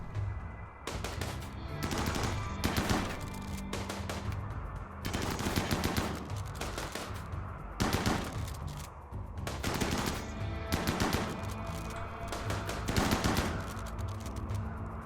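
Sustained gunfire in RimWorld during a raid on a colony, with bursts of rapid shots repeating every second or so for the whole stretch, loud and dense, with faint talk underneath.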